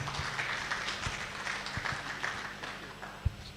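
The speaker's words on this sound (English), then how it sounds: "Please put your hands together for him. Can we clap for him, please?" An audience at a heritage film festival event applauds for the Commissioner, a steady wash of many hands clapping at moderate distance, with a few louder claps standing out.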